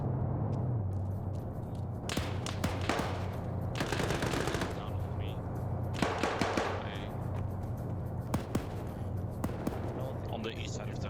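Shotgun blasts in a multiplayer shooter game, sharp single reports spaced irregularly over a constant low game hum, with voices talking in between.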